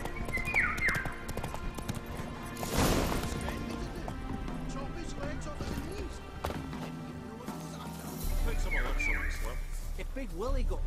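Hooves of the horse Roach clop in the video game Witcher 3 under game music and effects, with a voiced exclamation and a sharp impact partway through.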